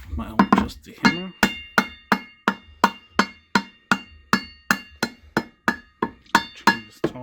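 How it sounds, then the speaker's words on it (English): A hammer taps repeatedly on the CVT transmission cover of a 2002 Mini during a belt replacement, about twenty sharp metallic knocks at a steady, even pace, close and clear. "My own trusty hammer."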